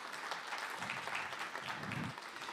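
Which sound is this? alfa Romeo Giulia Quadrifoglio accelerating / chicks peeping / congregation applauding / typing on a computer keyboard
congregation applauding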